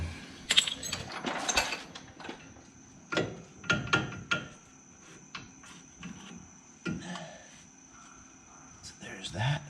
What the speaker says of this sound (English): I'm gonna go ahead and take the caliper off